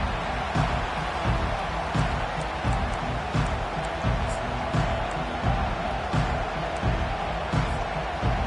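Crowd at a college football video game roaring steadily throughout, a dense, loud wall of stadium noise with rhythmic swells that sound like chanting or stomping.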